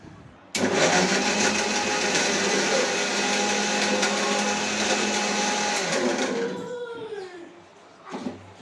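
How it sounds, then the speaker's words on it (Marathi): A mixer grinder whirs loudly as it grinds onion with salt, starting abruptly, running at a steady high-pitched roar for several seconds, then winding down with a falling whine, followed by a brief quiet clatter. "बारीक करताना त्यामध्ये मीठ टाकलं की कांदा लवकर बारीक होतो"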